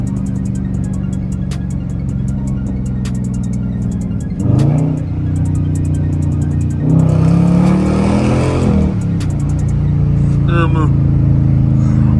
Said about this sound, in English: Little downshift before I go.